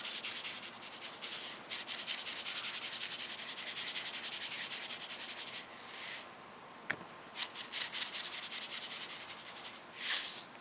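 Coarse salt is rubbed by hand onto both sides of a picanha beef cut before grilling over open fire, a close, soft gritty scraping in repeated strokes with brief pauses and no talk.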